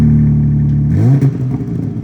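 A 2021 BMW M4 Competition with a four-tip exhaust revs hard, its steady loud idle rising into a sharp throttle blip before settling into a rough, burbling rumble, close and alone.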